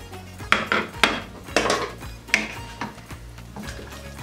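Chopped pepper, carrots and onion drop into a cooking pot of pork ribs in a stew, making several sharp clattering knocks and scrapes against the pot about every half second, close and clear with no talking.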